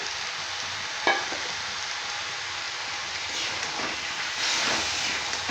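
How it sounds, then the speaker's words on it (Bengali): Soaked chickpeas added to a pan of hot mutton fat, with a loud, continuous close sizzle and a brief clatter as they go in, and no talk. "এরপর আমি দিয়ে দেবো এখানে চানাগুলো এটা পুরো রাত আমি ভিজিয়ে রেখেছিলাম"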